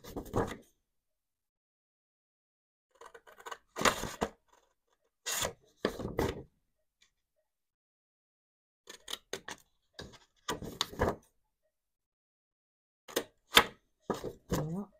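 Paper ephemera being cut into labels, short bursts of rough snipping and rubbing separated by silent pauses, close to the microphone.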